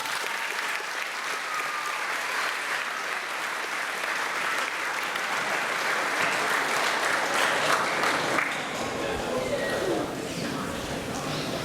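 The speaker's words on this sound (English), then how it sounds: "big round of applause for Gemma" Sustained applause from an audience at a 2020 high school awards ceremony, steady dense clapping throughout for a senior award winner, with a few voices mixed in.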